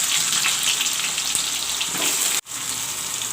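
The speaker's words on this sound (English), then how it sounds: "now I will fry the onions" Onions frying in a pan for chicken curry, a loud, steady hiss of sizzling oil that drops out abruptly for an instant before resuming.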